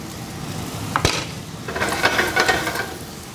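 Mushrooms sautéing in butter in a pan, a soft sizzle with scraping and stirring clatter, close and without talk.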